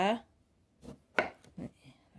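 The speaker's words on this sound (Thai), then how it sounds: "แล้วเราก็เอามะนาวมาหนึ่งลูกนะคะ หั่นมะนาวนะคะ" A few quick knife cuts through a lime knock against a board in close succession, following a brief voice at the start.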